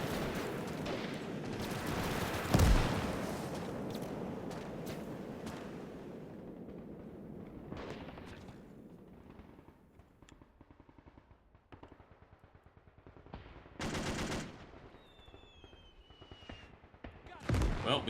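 Rapid machine-gun bursts and heavier mortar blasts rattle through a WW2 Battle of Saipan video game fight, with dense, continuous firing early, a loud impact near the start, and scattered volleys later, under occasional talk.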